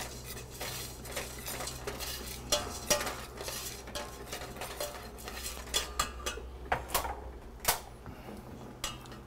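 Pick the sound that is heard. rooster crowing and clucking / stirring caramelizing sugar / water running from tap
stirring caramelizing sugar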